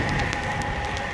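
Rain falls steadily during a bike ride around Exeter, U.K., a constant broadband hiss with faint scattered drop taps.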